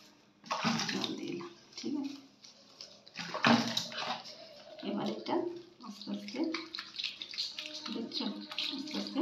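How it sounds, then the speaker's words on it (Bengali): Warm water poured over a baby during a bath, splashing and trickling in short bursts, with someone talking softly over it. "একটু গরম জল দিয়ে একটু করে করে নিলাম।"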